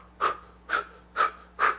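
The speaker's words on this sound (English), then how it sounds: "when you breathe out, you want to feel the air coming out and connecting down here" Four steady breaths for a singing exercise, each a soft airy exhale pushed out at a regular pace roughly half a second apart, close and clear with no talking.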